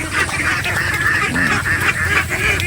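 Many ducks on a duck farm quacking together, a dense, loud, close chorus of overlapping calls with no pause.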